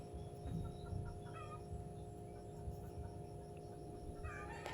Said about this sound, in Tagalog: Mayroong boses ng manok.